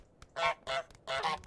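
Honks from the goose in Untitled Goose Game come as three loud, nasal calls in quick succession, close and clear, with no voices.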